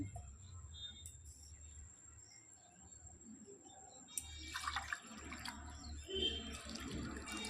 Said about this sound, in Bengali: এর মধ্যে একটু জল দিয়ে দিচ্ছি।